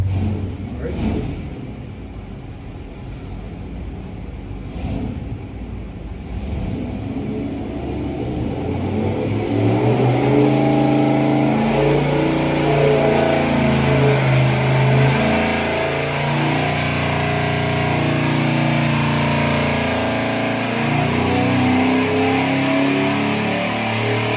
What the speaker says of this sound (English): I can already hear an engine running